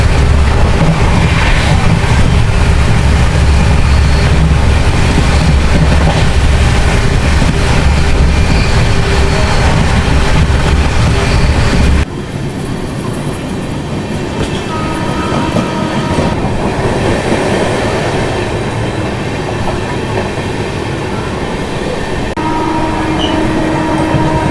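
A Tirupati to Coimbatore night train runs past Jolarpettai, heard as a loud, unbroken roar of wheels and carriage rattle that drops to a lighter clatter partway through.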